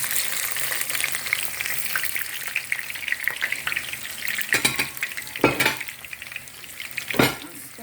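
Chopped onions hit very hot oil in a pan for an egg and vegetable sauce, crackling in a steady loud sizzle while a few sharp scraping stir strokes and utensil knocks cut through near the end.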